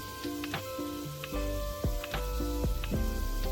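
Finely chopped tomato with turmeric frying in a pan for masala khichdi, giving a steady close sizzle with a few soft stirring knocks. Faint tonal lines run underneath.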